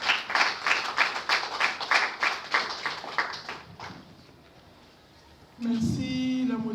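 Audience applause at a closing ceremony of the national museums institute in Congo, rhythmic group clapping in pulsing waves that fades away, followed by a voice speaking over a sound system.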